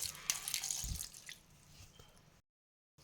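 Water trickles and splashes into a mixer grinder jar for grinding soaked lentils for pesarattu dosa batter, a short close pour with drips that fades over about two seconds before falling silent.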